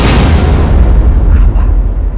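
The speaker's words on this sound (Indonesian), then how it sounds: "begitu lampu dinyalakan, ada suara ledakan besar" Big explosion sound effect of a boat blowing up on a beach, a loud deep boom at the start that rolls into a long rumbling decay, with no voices.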